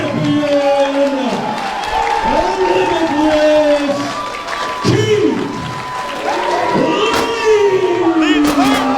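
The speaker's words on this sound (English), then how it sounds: "The entire crowd is on their feet, giving both these men a standing ovation" A wrestling arena crowd on its feet roars and cheers after a championship win, loud sustained yelling and whoops with swelling shouts and scattered claps, close and busy.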